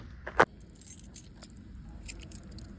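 A ring of new Pontiac Firebird ignition keys jangles briefly, with one sharp bright metallic clink near the start followed by quieter, lighter rattles.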